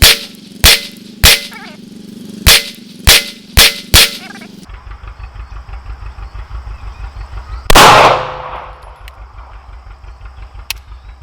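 Seven loud, sharp pistol shots from a Staccato C DUO firing 147 grain Remington Golden Saber rounds ring out in an uneven string, followed by a low idling rumble and a clattering metallic bang.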